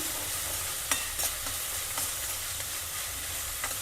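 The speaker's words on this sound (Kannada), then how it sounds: "ಸ್ವಲ್ಪ ಫ್ರೈ ಆಗಬೇಕು ಈರುಳ್ಳಿ" Onions for aloo methi sabzi sizzle steadily in a pan, with several scraping spatula strokes as they are stirred; no talking.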